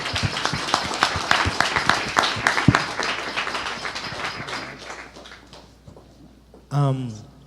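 Applause for the panelists at a Product Hunt meetup in DC: a room full of clapping that starts dense and gradually thins and fades, ending with a voice speaking.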